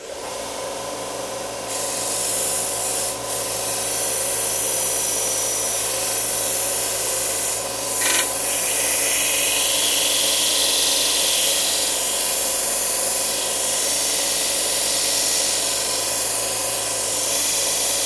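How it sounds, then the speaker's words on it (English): A part is held against a power sander in a workshop, making a continuous loud abrasive grinding roar with a low motor hum under it and a short scraping change partway through. "let's take this over here to the sander"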